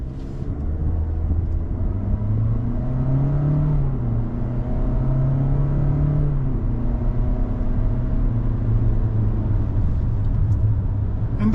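Engine of a 2025 Toyota Corolla Cross XLE pulling away on the road, a steady, continuous drone with a low hum that rises and dips slightly as speed builds, heard from inside the cabin with no talk over it.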